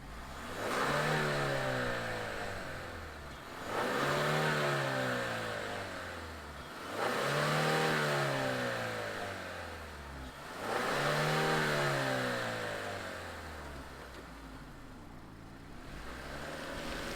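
A 2022 Kia Stinger GT-Line with all-wheel drive and a reworked exhaust revs repeatedly, four rising and falling engine swells with a deep exhaust note, close and loud, no voices.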